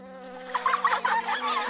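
A voice imitates a buzzing bee, a steady harmonic hum that rises into a wavering, pulsing buzz, close and moderately loud with no other sounds.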